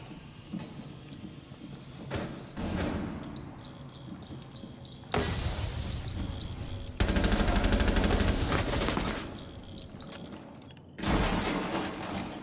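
Automatic gunfire in a competitive shooter video game, with recoil: rapid bursts of shots that swell into a dense, loud stretch of fire, then cut off, with another burst near the end over quieter game noise.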